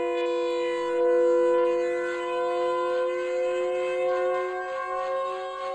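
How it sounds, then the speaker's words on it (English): A harsh, sustained video game siren from Siren Head drones on steadily for several seconds, its tone wavering slightly, with no speech over it. "that siren is pretty nasty."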